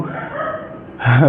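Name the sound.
dogs barking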